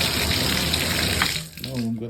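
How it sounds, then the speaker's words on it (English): Water runs steadily from a bathtub faucet with a newly replaced cartridge, a close, continuous splashing rush that softens near the end as a voice briefly speaks. "So I'm gonna test it first to see if it's running."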